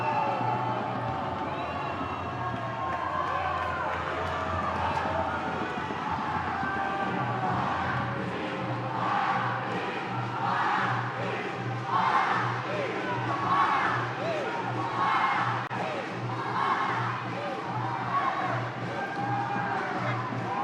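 A football stadium crowd at a Brazil versus USA match, with a sustained, dense roar of voices and waves of jeering directed at Brazil's head coach, swelling in rhythmic surges over a steady low rumble.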